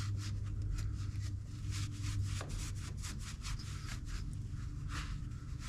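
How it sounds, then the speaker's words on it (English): A rag scrubs oily grime off a Harley-Davidson engine mount just beneath the oil filter, with repeated close, soft rubbing strokes at a steady rhythm. "Wipe some of the crud off of here, because this is right underneath the oil filter"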